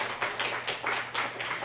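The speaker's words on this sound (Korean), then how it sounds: "여러분, 송인호 소장님을 큰 박수로 맞이해 주시기 바랍니다." A real estate forum audience claps to welcome a speaker to the stage, producing a brisk, continuous crowd of hand claps with small swells in loudness, heard alone without voices.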